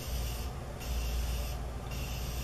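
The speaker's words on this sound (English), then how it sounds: "I'm gonna be using my Morphe Continuous Setting Spray just to set the face." Morphe Continuous Setting Spray mists onto a face in a continuous hissing spray lasting the full moment, close and steady with two short dips in intensity.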